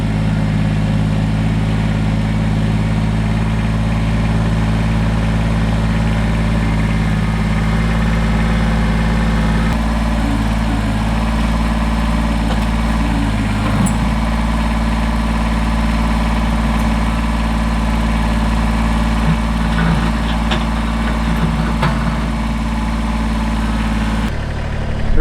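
A Kubota BX compact tractor engine runs steadily close by, a loud continuous low drone with a slight shift in tone partway through and no talking.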